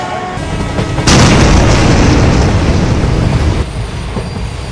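A goods train slams into the rear of the Kanchenjunga Express passenger train, a loud, sustained roaring crash and rumble that lasts a few seconds over a constant background of rail noise, with no voices.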